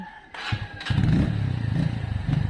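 Motorcycle ridden nearby, a low engine rumble that rises and holds steady with rhythmic pulsing, preceded by a few brief clunks and thumps; no talk.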